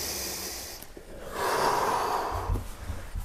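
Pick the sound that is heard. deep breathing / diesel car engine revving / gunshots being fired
deep breathing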